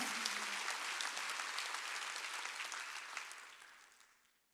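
Applause from a church congregation during a Wednesday worship service, dense clapping that holds steady and then fades out toward the end.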